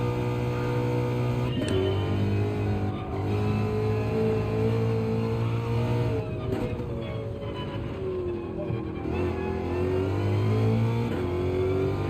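A car engine in the Gran Turismo 7 racing game revs hard, its tone climbing and then dropping sharply at each upshift, repeated several times over a steady, close drone without talk.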